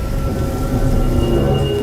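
Rain pours in an animated horror story, and a thunderous rumble sits underneath. The steady, fairly loud wash is brief and continuous, with no voices.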